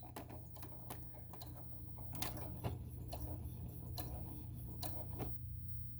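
A sewing machine back stitching the end of a tote bag seam, a quiet run of quick mechanical ticks and stitching clicks over a low steady motor hum.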